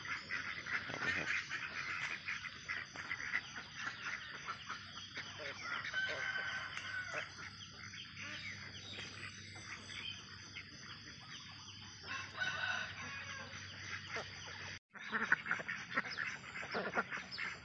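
Chickens cluck and a rooster crows among ducks quacking nearby, a busy, continuous barnyard chorus with a brief break near the end.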